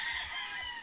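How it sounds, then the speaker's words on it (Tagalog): Chickens crowing and clucking on a Filipino farm with wild chickens nearby, a steady close flock chorus holding through the brief moment with no talk over it. "And then meron po dito mga wild chickens."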